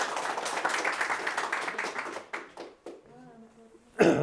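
An audience claps in a lecture hall, a dense burst of applause for about two seconds that fades out, followed by a brief voice and a short sharp clap.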